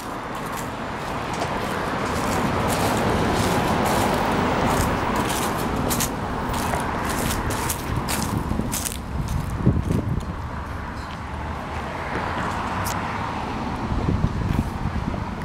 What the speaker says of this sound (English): the noise coming from the street isn't as bad as you would expect